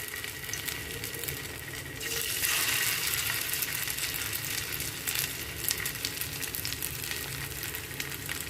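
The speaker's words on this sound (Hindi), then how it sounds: "फिर इसको शैलो फ्राई करेंगे गोल्डन ब्राउन होने तक" Vegetable semolina bites shallow-fry in hot oil with a steady, hissing sizzle. It grows louder as more pieces drop into the pan, with soft crackles throughout and no speech.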